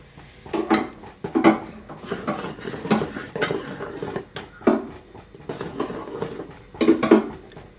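A spoon stirs boiling semiya (vermicelli) in a pot for Ramadan thari kanji, making close, irregular metallic clinks and scrapes against the pot in short bursts.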